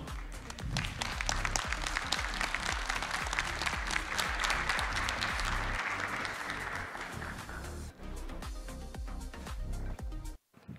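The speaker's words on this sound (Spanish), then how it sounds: "Le damos la bienvenida a Octavio con un fuerte aplauso" A conference audience greets a speaker at a security talk on OEM routers with loud, sustained applause that swells and then gradually thins out over about ten seconds before stopping.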